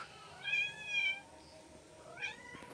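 A mother cat calls to her three kittens at home with two clear, drawn-out meows close by, followed after a pause by a third shorter call, in a quiet room.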